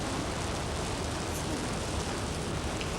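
Steady heavy rain pours down in a March storm, a dense, even hiss of downpour throughout with no pauses, close and enveloping, no voices.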